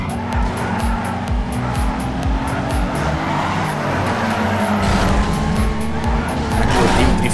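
Car drifting in Need for Speed Underground 2 fills the scene with steady, loud tire squeal over a revving engine, with the screech continuing without a break throughout.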